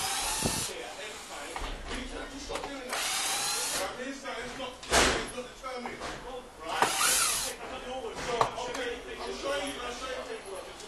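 A power drill in use by a locksmith during an eviction, heard in several short loud bursts separated by pauses, with people talking throughout.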